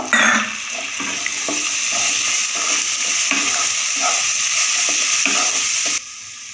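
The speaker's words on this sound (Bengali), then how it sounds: "অল্প একটু জল দিয়ে ভালো করে মশলাটা কষিয়ে নেব" Spice masala with Kashmiri chili powder, tomato ketchup and a splash of water frying in a pan, a close, loud continuous sizzle with repeated stirring scrapes, cutting off abruptly near the end.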